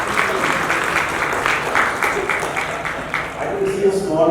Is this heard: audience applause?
yes